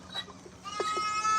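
Goats bleating at feeding time on a farm, two or three short nasal calls close by, with brief human voices and rustling in the background.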